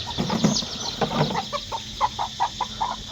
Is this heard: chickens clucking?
yes